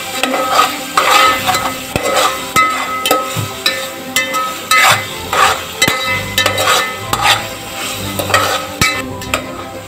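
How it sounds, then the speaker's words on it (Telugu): A bagara rice mixture with coriander and mint is stirred in a pan, a spoon scraping and clanking in steady repeated strokes over a light sizzle, close and fairly loud, with no talking. "నెక్స్ట్ కొత్తిమీర అన్నీ వేసేసినాక మిక్స్ చేయాలి"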